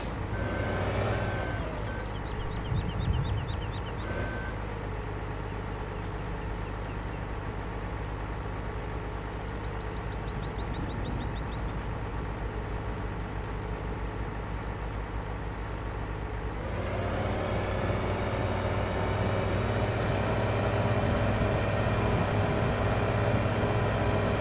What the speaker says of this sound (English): Looks like the Peterbilt made it back.